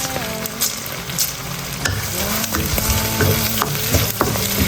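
Dried chilies, Sichuan peppercorns and numbing peppercorns fry over low heat in oil reddened with bean paste and hotpot base for a home-style spicy dry pot. A steady, close sizzle with scattered clicks from stirring.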